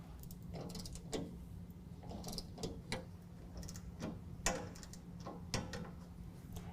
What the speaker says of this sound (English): I can tighten those down to 65 inch-pounds using my T30 as well